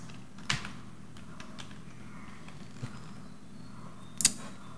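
Sparse taps on a computer keyboard, a few isolated keystrokes, the loudest near the end, set over a quiet room hum with no talk.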